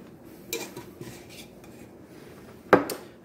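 Home-canned black beans tipped from a jar into a crockpot for chili, with a few soft clinks and scrapes of glass and utensils, then one sharper clatter near the end, set against quiet kitchen background.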